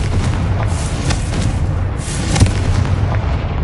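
A Confringo fire spell from Hogwarts Legacy bursts in a rolling, booming blast amid game noise, with a sharper thump near the end.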